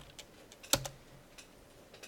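Keys on a computer keyboard are tapped a few times, close and quiet, with one sharper louder keystroke among scattered lighter clicks in an otherwise quiet room.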